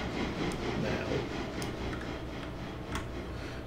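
A train rolls along the railway with a steady low rumble, broken by light rhythmic clicks of wheels over the rail joints at a moderate distance.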